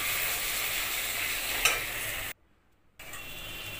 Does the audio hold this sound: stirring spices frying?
yes